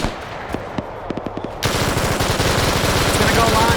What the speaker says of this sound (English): And you hear that 222 firing off.